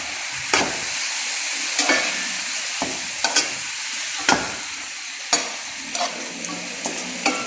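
A spaghetti pancit is stirred in a pan, with a loud continuous sizzle and sharp spatula scrapes and clacks against the metal at irregular intervals. No talking.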